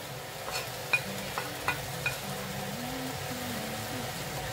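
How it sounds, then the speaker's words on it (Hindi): A spice mixture with salt sautéing in a pan for malai sabji, a steady soft sizzle of frying throughout, punctuated by a few sharp clicks of a spoon stirring against the pan, with faint background hum. "हमें ये सारा मिक्सचर 5 मिनट तक सॉटे करना है।"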